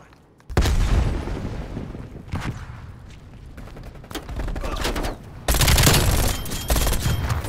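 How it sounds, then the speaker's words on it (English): Grenade blast and heavy gunfire in Call of Duty: Black Ops Cold War, a loud burst of explosions and rapid shots, then after a lull a dense, intense stretch of firing and booms close up. "Throwing grenade."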